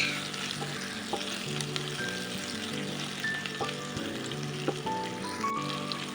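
Steady sizzling of sweet potatoes frying in a pan, with occasional scrapes and clinks of a spoon stirring, close by and continuous with no voices.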